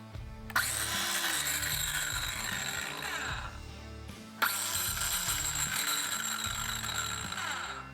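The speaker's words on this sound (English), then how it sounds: "the motor or bearing seemed to be running rough, making intermittent noises." A Ryobi power saw fitted with a wood blade runs with a loud, steady whine. The motor sounds rough, briefly cutting out and restarting midway, with faint metallic rattles riding over the drone.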